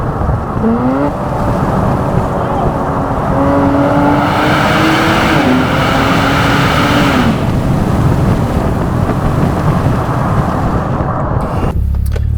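A Nissan Z sports car engine revs hard and climbs through the gears with the windows down, the loud roar echoing through an enclosed tunnel, then cuts off abruptly near the end.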